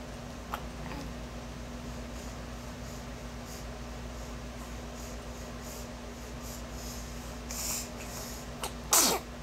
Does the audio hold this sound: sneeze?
yes